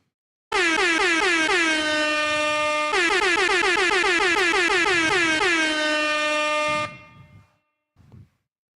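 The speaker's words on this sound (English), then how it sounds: "I'll also give everybody a few air horns" An air horn sound effect plays during a hockey livestream, sounding as a series of loud, blaring blasts in quick succession for several seconds, then stopping.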